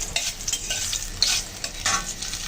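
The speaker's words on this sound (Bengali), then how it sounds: "এদিকে কড়াইতে তেল বসিয়েছি, গরম হয়ে গেছে। এখন ফোড়নে দেওয়ার জন্য নিয়ে নিচ্ছি একটা তেজপাতা আর" A bay leaf and a dried red chili sizzle in hot oil in a wok for a dal tempering, a close, lively crackle broken by sharp bursts and scraping stirs of a spoon, with no voices.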